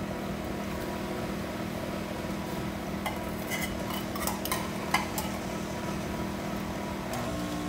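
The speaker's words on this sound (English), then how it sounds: "We're going to stir it." An electric mixer runs steadily through condensed milk pound cake batter after the last of the cake flour goes in, a constant close whirring hum with a few faint clinks of the bowl.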